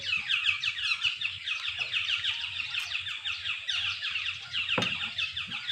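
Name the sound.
birds calling by a lake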